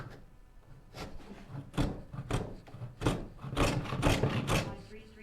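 Dados are cut into wooden backboards for a Shaker-style cupboard in a woodworking shop. Close, irregular scraping and rasping strokes come about one per second, each a short woody burst over a quiet background.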